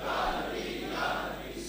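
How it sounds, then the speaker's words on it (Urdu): A large gathered crowd chants a religious devotional slogan in unison, the rhythmic massed voices rising and falling in two swells, distant and fairly faint. "سارے نعرے مزے کے ہیں لیکن اس نعرے میں نسبت مصطفیٰ بڑی مضبوط ہے"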